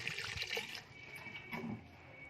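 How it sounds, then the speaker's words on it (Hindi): Water is poured from a glass into a cooking pot of mutton with onions and spices for a gosht and palak curry, giving a faint, close splash and trickle in two short bursts. "और इसमें हम तकरीबन 2 गिलास के करीब पानी डाल देंगे।"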